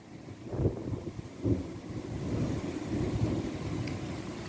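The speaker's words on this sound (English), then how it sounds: "Like the thunder, it's just endless." Low, rolling thunder from a severe storm in Ontario rumbles in the distance, building into a sustained roar with wind noise and faint rain underneath.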